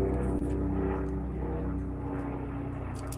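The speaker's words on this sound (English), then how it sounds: "I think it's a helicopter flying over." A steady low engine drone, like a helicopter passing overhead, continuous and fairly loud throughout with no talking.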